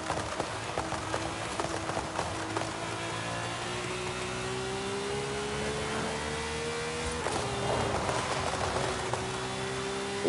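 A Lamborghini with an aftermarket tune drives in Forza Horizon 5, its engine holding a steady rising drone that shifts pitch once midway, continuous and fairly loud with faint clatter and no talk.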